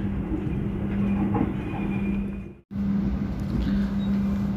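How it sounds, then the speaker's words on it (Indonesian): Steady rumble and low hum of the Lodaya passenger train rolling into Tasikmalaya station, heard from inside; the noise drops out briefly before resuming. "kereta api Lodaya yang saya naiki akan tiba dan berhenti di stasiun Tasikmalaya"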